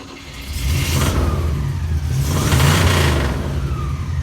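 A 1960 Cadillac 390 V8 with a new exhaust revs twice, rising and falling in loud, throaty surges with a steady rumbling idle between them.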